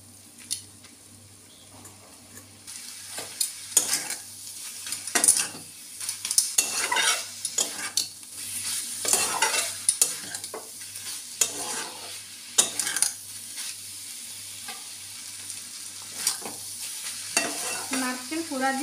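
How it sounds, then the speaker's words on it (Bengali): Ridge gourd and grated coconut are stirred in a pan with a little oil, giving a low frying sizzle under repeated scraping and clinking strokes of a spatula, which come in uneven bursts close by with no talking. "এবার আরেকটু নেড়ে নেড়ে শুকনো করে নেব।"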